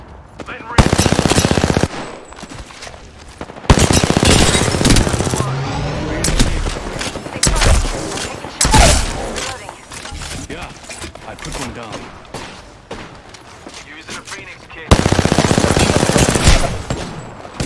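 Bursts of automatic gunfire in an Apex Legends match while a Crypto player fights off an attacking squad, with heavy rapid fire at the start and end and shorter volleys between, loud and close throughout.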